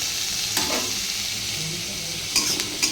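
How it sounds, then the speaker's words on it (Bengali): Onion fries in a pan with a steady, close sizzle while a spatula stirs it, scraping the pan in a few brief bursts, with no voices. "পেঁয়াজটা ভাজা ভাজা হোক"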